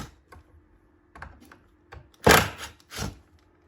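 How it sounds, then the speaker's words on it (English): A chisel cleaning out a wooden dovetail recess for a butterfly inlay on a charcuterie board: light taps and scrapes, then two louder close thunks of steel on wood. "I'm just going to take a chisel and get anything that I missed"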